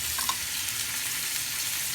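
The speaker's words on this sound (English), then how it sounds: "green beans are in the frying pan, and I'm going to just turn them over in the fat, which is the butter and olive oil." Green beans frying in butter and olive oil in a pan, a faint, steady sizzle and hiss with a few soft clinks as they are turned over.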